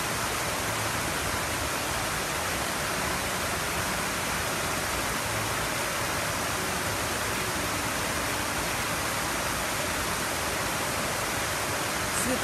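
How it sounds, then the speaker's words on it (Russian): Light and music fountain in Tsaritsyno Park, Moscow, its water jets giving a steady, dense rushing hiss like heavy spray or a waterfall, unbroken and fairly loud throughout, with faint crowd sounds underneath. "Светомузыкальный фонтан в парке Царицына, безусловно, является достопримечательностью города Москвы и его гордостью."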